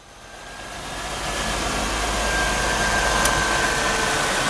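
A 2002 Buick Century Custom's engine runs steadily as a broad, loud hum that builds over the first second and then holds even, with no voices.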